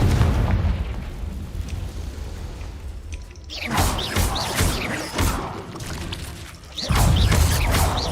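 Explosive spell blasts go off in the video game Hogwarts Legacy, a run of loud, booming bursts and crashing impacts with rumbling debris and brief pauses between them.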